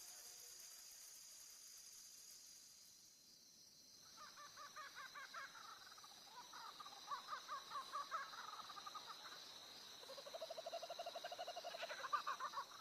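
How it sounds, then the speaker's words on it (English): Kookaburras in an Australian forest at dawn, their rising chuckling calls building in repeated bursts at a distance over steady insect-like background hiss, faint overall. "The dawn chorus of the kookaburra"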